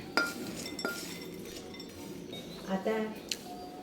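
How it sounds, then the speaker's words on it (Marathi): Fox nuts (makhana) tipped into a bowl in a home kitchen, with a few sharp clinks of dishes and utensils scattered over soft handling noise, close and moderately loud. "हे मखाने ह्या बाउलमध्ये काढून घेणार आहोत।"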